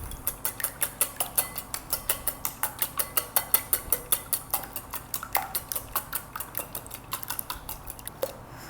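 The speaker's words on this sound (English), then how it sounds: "Once you have your eggs cracked and whisked" A whisk beats eggs in a bowl, a rapid run of sharp metallic clicks against the side in a steady rhythm of roughly four strokes per second, close and alone.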